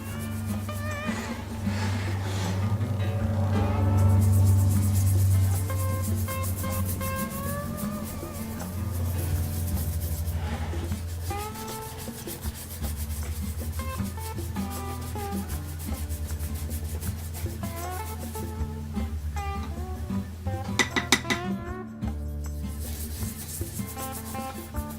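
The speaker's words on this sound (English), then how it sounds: "Just start scrubbing." A brush scrubs a dirty, cracked old deer skull with a broken tine during washing. Continuous close rubbing and scraping strokes carry on steadily throughout, loud and with no talk.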